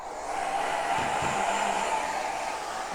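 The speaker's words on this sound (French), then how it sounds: "On va prendre ce sèche-cheveux là" A hair dryer runs off a Bluetti Elite 200 power station, giving a loud, steady whirring blow that holds an even level throughout, with a brief low rumble partway through.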